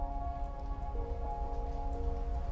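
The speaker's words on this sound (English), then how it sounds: "The raindrops create a soothing rhythm as they tap against the glass, a natural melody that calms the mind." Raindrops tap steadily against window glass, a constant soft patter with faint scattered drops over a low background hum, with no voices.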